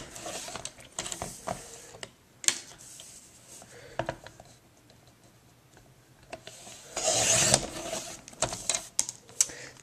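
Paper strips for a handmade card are trimmed with a cutter or blade, with soft rasping slides, scattered clicks and taps, and a longer rough scraping stretch near the end, close and fairly quiet.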